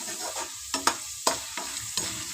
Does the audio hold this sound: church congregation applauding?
no